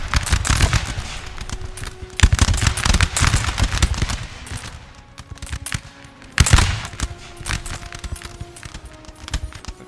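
Musket volleys crack out in the Napoleon Total War video game, a dense run of gunfire bursts with two heavy, loud volleys standing out amid scattered shots and crackling, with no talk over it.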